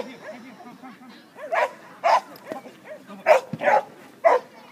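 An excited dog at an agility trial gives several sharp, loud yips and barks in an irregular burst close by, with whining between and people talking around it.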